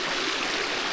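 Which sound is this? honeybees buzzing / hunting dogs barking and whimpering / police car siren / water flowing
water flowing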